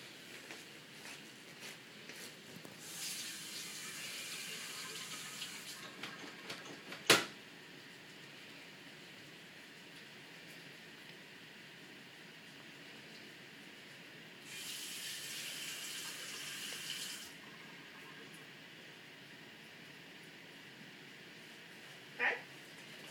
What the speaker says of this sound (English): I'm going to go ahead now and walk over and wash my hands.